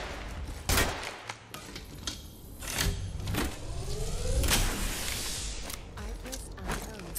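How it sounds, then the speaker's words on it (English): Rapid gunfire in the Halo video game, sharp overlapping shots and bursts over a dense combat soundscape, with loud cracks near the start and around the middle. "Getting shot at."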